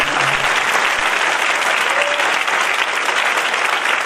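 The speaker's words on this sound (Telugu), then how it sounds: "ఆ భక్తునికి ఇచ్చిన కృపను బట్టి అందరు చప్పట్లతో దేవుని" A church congregation claps together during a Christmas sermon, a dense, steady roar of many hands that stays loud and unbroken from start to finish.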